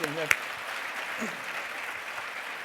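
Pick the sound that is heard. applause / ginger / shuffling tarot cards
applause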